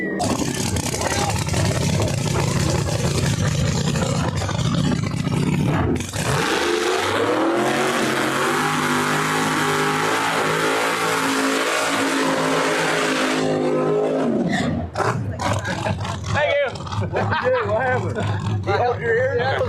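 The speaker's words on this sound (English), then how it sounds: "Another violent tire shaker. Very violent there." A drag race car on a no-prep track at New England Dragway makes a violent, tire-shaking pass, its engine roaring loud and continuously, then cutting off, with a commentator talking over it.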